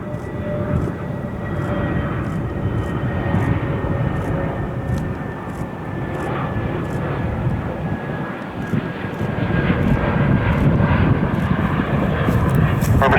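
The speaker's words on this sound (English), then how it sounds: "rolling 6 right, cleared to land, flying a Boeing 737" A Boeing 737 jet landing at Cleveland Hopkins Airport makes a continuous, fairly loud engine roar that holds steady and swells slightly near the end, with no voices heard.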